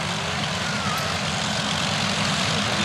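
An Avro Lancaster bomber taxiing at East Kirkby with its piston engines running, a steady, loud, continuous engine drone and rumble throughout with no talking.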